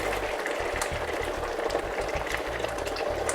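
Chicken broth for a Spanish paella bubbles steadily in a pan, a continuous dense boiling and frying hiss that stays at an even level throughout, with no talk.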